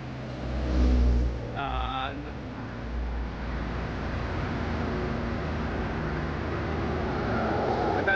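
Morning expressway traffic heading toward Manila, with a steady low engine hum and road rumble throughout and a brief louder passing vehicle near the start.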